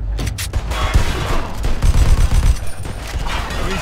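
Rapid gunfire in the crime shooter game Mafia II, with dense overlapping bursts and booming shots close and loud, heaviest in the middle stretch and continuing throughout.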